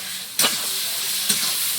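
Spice paste with ground cumin fries in hot oil for a duck meat curry. A loud, continuous sizzle is broken by two scraping stirs about a second apart.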